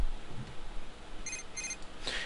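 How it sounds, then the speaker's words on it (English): Phone ringing in The Sims 3 life-simulation game, two short electronic trill bursts followed by a brighter chime, fairly quiet over a low background hum. "And the phone's ringing."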